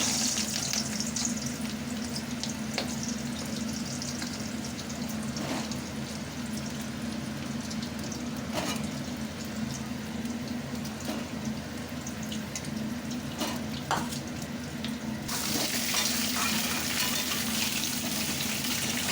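Potatoes fry in oil for malai aloo dum, along with crushed cardamom, cumin seeds and a bay leaf. A steady close sizzle runs throughout with faint stirring clinks, and it turns brighter and hissier near the end.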